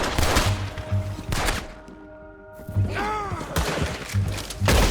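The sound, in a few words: gunfire shooting at a tank, Red Dead Redemption 2 video game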